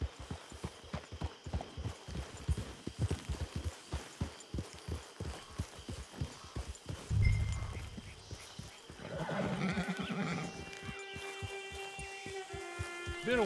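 Horse hooves clip-clopping at a steady walk in the video game Red Dead Redemption 2, followed by a loud whinny and snorting near the middle and a tonal musical swell toward the end.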